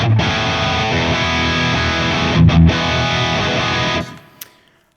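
Heavily distorted electric guitar through a Two Notes Captor X+ on its stock heavy dry preset, loud dense chugging chords played for about four seconds, then cut off and left to ring out briefly.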